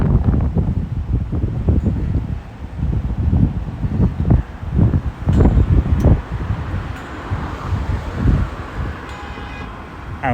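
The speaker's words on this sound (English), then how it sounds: "This wind is crazy. I know I'm going to get a lot of wind noise." Strong gusting wind buffets the microphone outdoors in Cold Lake, Alberta, producing loud, uneven rumbling blasts that swell and drop throughout, with faint distant traffic beneath.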